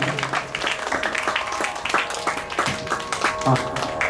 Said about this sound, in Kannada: ಜೋರಾಗಿ ಚಪ್ಪಾಳೆ ಬರಲಿ ಧೀರಜ್ ಅವರಿಗೆ